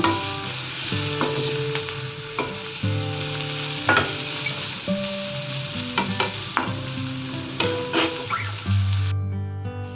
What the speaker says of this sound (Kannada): ಹೆಚ್ಚಿಟ್ಕೊಂಡಿರೋ ಈರುಳ್ಳಿ ಹಾಕ್ತಾ ಇದ್ದೀನಿ. ಈರುಳ್ಳಿನ ಸ್ವಲ್ಪ ಫ್ರೈ ಮಾಡ್ಕೋಬೇಕು.